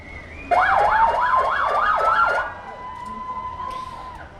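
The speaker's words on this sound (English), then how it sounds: "Apologies for the random intrusion of sirens." Emergency vehicle sirens pass along a street parade route, a loud wailing siren rising and falling rapidly over a steady tone, then fading to a single held tone before another siren burst enters.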